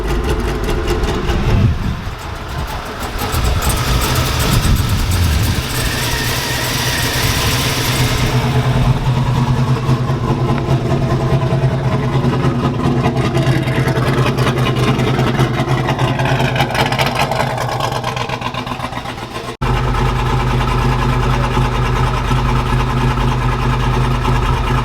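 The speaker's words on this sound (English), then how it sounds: "Trying to get the truck running, but they said injectors 2 and 4 they aren't working right." A truck engine with injectors 2 and 4 not working right runs continuously at a rough, steady idle, close and loud, with a brief cut near the end and no talking.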